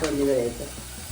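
Masala hitting hot tempering oil with onions gives a loud, close sizzle in the pan, strongest at the start and easing off after about half a second into a softer frying hiss.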